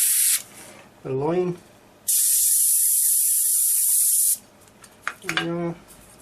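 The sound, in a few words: VEDA 180 airbrush spraying Vallejo paint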